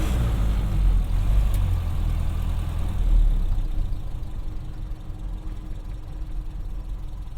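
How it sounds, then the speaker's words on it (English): A 1931 Ford Model A Coupe driving slowly through town, its engine a steady low rumble heard from the cabin, easing slightly partway through, continuous and moderately loud with no speech. "the Model A is just a fantastic car for this kind of in-town driving"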